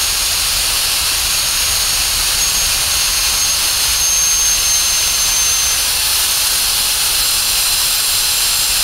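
A handheld Kica Jet Fan MAX blows continuously with a loud, steady high-pitched whooshing whine, close up and unbroken for the whole stretch.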